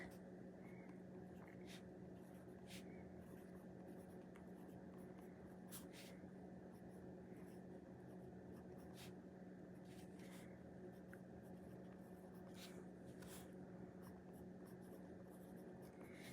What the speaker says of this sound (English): I'm just writing a little sentence.